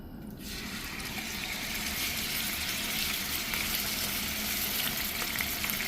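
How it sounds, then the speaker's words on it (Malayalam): Chicken pieces for a pepper chicken masala drop into hot oil in a pan and fry with a steady, loud broadband sizzle that keeps going without a break. No one speaks. "ഇവിടെ എണ്ണ ചൂടായി വന്നിട്ടുണ്ട്. നമുക്കിത് ഓരോന്നും അതിലേക്ക് ഇട്ട് കൊടുക്കാം."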